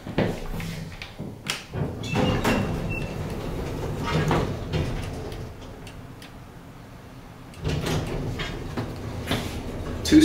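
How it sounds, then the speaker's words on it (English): Otis traction elevator in a hospital parking garage, its two-speed sliding door running with clattering, ticking mechanical noise and rumbling bursts that rise, ease off midway, then return loudly near the end, with no speech. "Two-speed door there."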